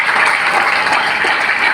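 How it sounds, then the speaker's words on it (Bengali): Audience applause at an awards event honouring achievers, a dense, steady wash of clapping from a crowd, loud and continuous with no pauses across the short stretch. "আমি চাইবো এদের সবার সমস্ত অ্যাচিভারদের জন্য একটা জোরদার হাততালি হবে"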